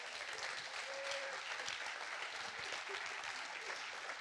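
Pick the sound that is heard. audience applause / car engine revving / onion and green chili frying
audience applause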